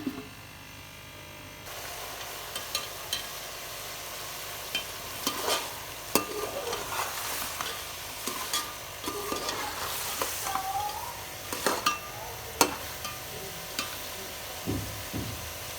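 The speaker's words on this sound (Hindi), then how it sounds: "अब इसको इसी तरह हल्की आंच पे पकाएंगे।" Cauliflower and chicken (gobhi chicken) cooking on low heat in a pan, a steady soft sizzle with occasional spoon stirring scrapes and clinks, close and fairly quiet, no talking.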